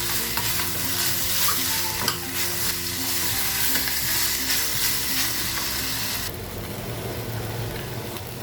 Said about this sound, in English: Our vegetable has been frying for 3 minutes now